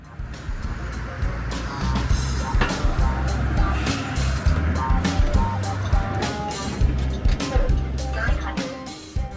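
An articulated city bus on a transit route pulls up to a stop. The engine rumbles low and steadily, broken by clanks and bursts of noise, while voices murmur in the background.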